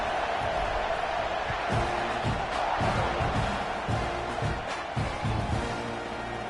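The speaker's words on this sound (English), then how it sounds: "this crowd is buzzing after that last score" Video game stadium crowd at a college football matchup between Arkansas and Texas A&M, a steady loud roar with rising swells and scattered cheers, continuing without pause throughout.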